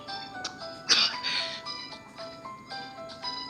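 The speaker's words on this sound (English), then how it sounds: "And Elliot's just coughing here." Elliot, a character in the video game Daiya no Kuni no Alice, gives a few short coughs and throat-clearing sounds over soft game music with sustained tones.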